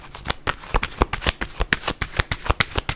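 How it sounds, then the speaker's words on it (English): Tarot cards being shuffled by hand make a rapid, evenly spaced run of crisp riffling snaps, close and fairly loud, with no voice. "Give me one more card from the tarot deck, Spirit."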